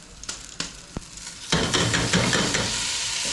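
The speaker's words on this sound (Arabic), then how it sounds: "هننزل بالرز" Rice goes into a pot of golden-browned vermicelli on a home stove: a few sharp spoon knocks, then a loud burst of steady sizzling frying that continues under stirring, with no talking.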